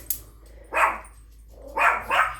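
A dog barks indoors in a home kitchen: one brief yip, then three loud, close barks in two bursts, with no talking.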